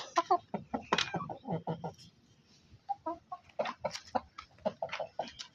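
Chickens cluck in a busy, irregular chatter with a rooster among them, close by, with short gaps between bursts.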